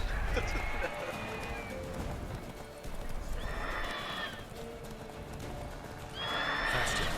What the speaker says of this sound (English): I have a horse for a reason.